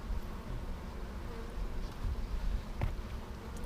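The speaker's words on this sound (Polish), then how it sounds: "I one dużo miodu zno znoszą, szybko się rozwijają z wiosny, ale rojliwa." Honey bees buzz around a hive in a dense, steady drone of many insects, close and continuous with no voices.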